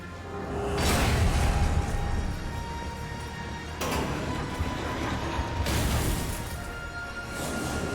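A skeleton key unlocks a mechanism in the video game Darksiders II, heavy mechanical grinding and clunking in three surging bursts with whooshing swells, moderately loud with no talk.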